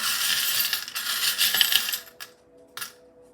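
Small metal charms clatter onto a surface in a dense jingling spill that fades out, followed by a couple of brief clinks, close and moderately loud with no talking.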